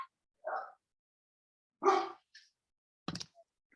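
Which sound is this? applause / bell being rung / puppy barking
puppy barking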